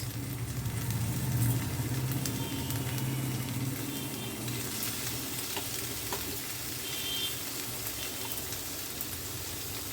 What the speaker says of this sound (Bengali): এর মধ্যে দিয়ে দেবো পনির কিউবস